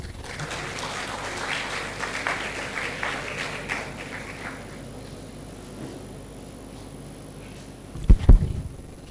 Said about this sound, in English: with a big round of applause, let us welcome principal to address the gathering